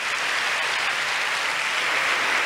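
A congregation at a church women's congress applauding, a dense, loud and even roar of many hands clapping together with no break.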